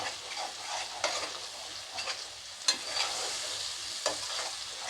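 Ground sesame paste with red chilli powder being stirred and sautéed in a pan, giving a steady close sizzle with the scrape of a spatula at intervals and no talking.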